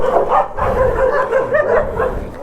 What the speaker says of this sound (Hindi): कुत्तों को भी अभी लड़ना है,